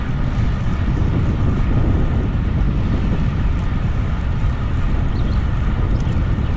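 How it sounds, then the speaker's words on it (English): Strong, steady wind roar buffets the microphone of a bicycle ridden on carbon wheels, a dense low rumble that stays loud and unbroken throughout with no talking. "Well, now I'm getting wind."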